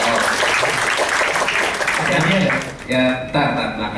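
Seminar audience clapping for a participant in a gamification session, a dense, lively round of applause that fades near the end, with a voice breaking in briefly over the tail.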